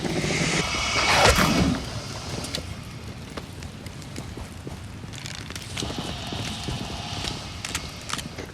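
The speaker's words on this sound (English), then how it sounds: "They sound like horses." In the video game Bootstrap Island, horse-like animals clop and shuffle with hoof-like knocks, starting with a louder burst, then continuing in a quieter, irregular patter over a soft ambient bed.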